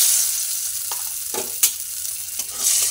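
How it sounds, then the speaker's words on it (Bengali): Salt stirred into hot oil in a wok gives a soft steady sizzle, with a few scraping stir strokes close by and no talking. "নুনটা তেলের মধ্যে একটু মিশিয়ে দিলাম।"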